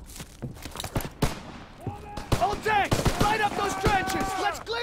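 Gunfire in the video game Call of Duty WWII crackles in a series of sharp shots and short bursts, loud and close, mixed with players talking over the action.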